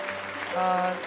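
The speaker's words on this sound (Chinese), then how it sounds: "好，我们给他鼓掌感谢主。" Applause from a church congregation at a Sunday worship service, a brief burst of clapping swelling and fading over about a second, with some tonal background sound underneath.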